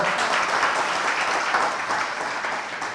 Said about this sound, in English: there should be a very big round of applause for all the young guys who are here